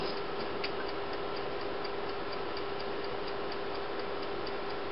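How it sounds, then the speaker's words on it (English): A classroom timer ticks in a steady, even rhythm, faint and alone against a constant low hum, each tick evenly spaced through the whole stretch. "I can hear the timer ticking away"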